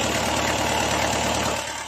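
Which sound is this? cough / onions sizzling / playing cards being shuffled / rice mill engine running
rice mill engine running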